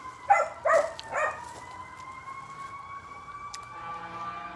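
Emergency vehicle siren wailing in the distance outside a garden, a faint steady tone under loud nearby bursts of other sound at the start, continuing alone throughout.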